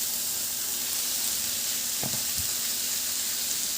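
Frozen mixed vegetables and leftover rice stir-fry in a pan with a steady, loud sizzle and hiss, plus a couple of brief scraping knocks of a utensil.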